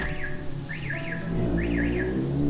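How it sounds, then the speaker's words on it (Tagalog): A car alarm sweeps up and down in repeated warbling whoops over a low, steady rumble of engines and background noise. "Nag-a-alarm na yung mga kotse."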